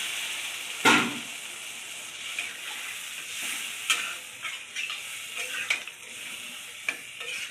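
Water poured onto spice paste of salt, turmeric and chili powder frying in a pan for a fish and potato curry, giving a sharp burst of sizzle, then continued hissing with scattered splutters and scrapes.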